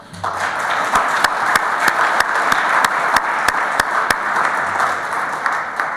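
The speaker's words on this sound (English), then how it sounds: "can we please give them a round of applause?" A meeting audience applauds donors with a steady, fairly loud wash of clapping that lasts about six seconds, with a few sharper individual claps standing out.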